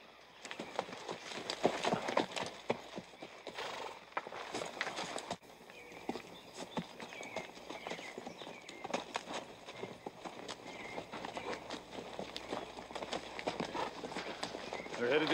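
Horses' hooves clip-clop in a steady, uneven patter on open ground in a 1989 western frontier setting, fairly close and continuous throughout.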